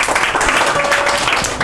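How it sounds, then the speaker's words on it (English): A group at an academy claps for a student about to speak, a short burst of fairly loud, close applause with some faint voices mixed in. "So give her a clap."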